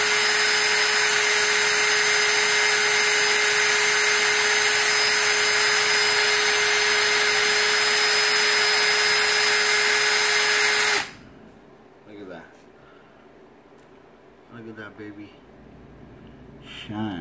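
A broadside polishing tool for mech mods and RDAs whirs loudly and steadily, a constant high motor whine that cuts off abruptly, followed by faint handling sounds and light rubbing as a microfiber cloth is worked over the top cap.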